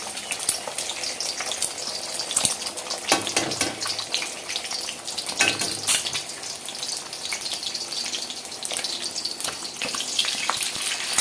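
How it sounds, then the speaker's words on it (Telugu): Four eggs fry lightly in a pan for egg fried rice, giving a steady, dense sizzle that carries on unbroken at close range with faint scraping, and no one speaks. "ముందు దాన్ని మనం కొంచెం లైట్గా ఫ్రై చేసుకుందాం అనమాట"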